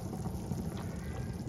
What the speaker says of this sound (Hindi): ये देखिए पानी में उबाल आ चुका है